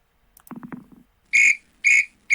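In the Dice United PC football game the referee blows the final whistle with three sharp, loud shrill blasts in a steady rhythm, preceded by a brief muffled thump.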